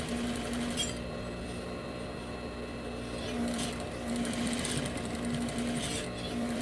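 A sewing machine topstitches trousers being let out at the waist and hips, running with a steady, even mechanical whir and rapid needle chatter at close range, with no speech.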